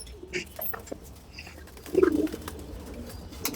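Two female racing pigeons cooing nearby: a soft, low coo rises clearly midway among faint chirps and light rustling, with no voices.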